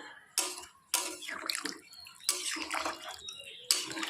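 Water poured into a pot of mutton curry to thin the gravy, splashing and trickling in bursts with pot clatter in between, close and moderately loud.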